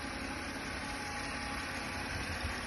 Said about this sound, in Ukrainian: моторчик працює рівненько, гарненько